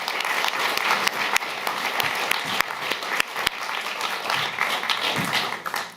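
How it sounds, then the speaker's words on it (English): A theatre audience at a talk on climate democracy bursts into warm applause, loud and close, with sharp individual claps standing out from the steady crowd clapping for about six seconds before it trails off. "give her a warm round of applause"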